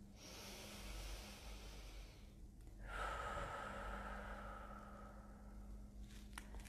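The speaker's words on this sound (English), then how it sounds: "take a deep breath" A deep breath is drawn in and let out slowly during a calming tapping exercise, a close, airy rush of inhale and exhale with a soft hissy texture and no talking.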